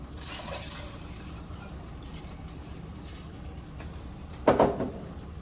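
Water pours briefly into a bowl of rice near the end, a short splashing fill after several seconds of faint background hiss.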